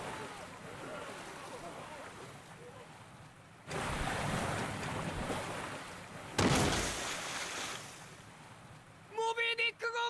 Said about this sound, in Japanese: マリンフォード湾内に突如巨大な海賊船が浮かび上がる。